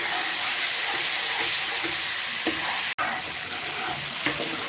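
Mustard seeds, curry leaves, red chili and prepared masala sizzling in hot oil for sambhar, a steady, close frying hiss with a few soft pops and a brief clatter, and no talk.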